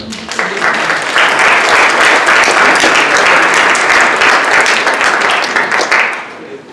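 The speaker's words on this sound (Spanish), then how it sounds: "al cual le pido un fuerte aplauso" Loud, close applause from an audience welcoming a student speaker at a youth science forum swells quickly into a dense wall of clapping, holds steadily for several seconds, then fades out near the end.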